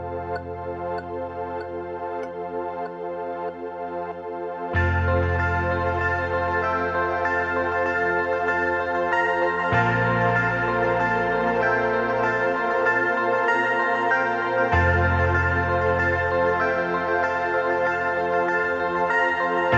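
A keyboard pad patch plays an intro chord progression starting on F, with sustained lush chords changing every few seconds and swelling fuller after the first chord, alone with no voices.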